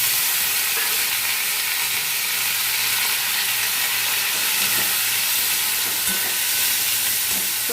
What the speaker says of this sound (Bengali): সবজিগুলো একটু ভাজা ভাজা হোক।